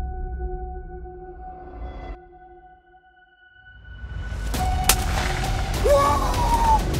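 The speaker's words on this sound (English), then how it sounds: "And when I had a clear view, I took my shot." A single loud, close gunshot at a wild turkey during a spring hunt, cracking sharply after a quiet pause and a low hum, then trailing into a long rumbling echo through open woods.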